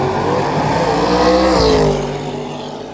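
A loud, high-revving 1955 drag racing car engine roaring steadily at a drag strip, pitch sweeping up and then dropping as it eases off, heard from fairly close.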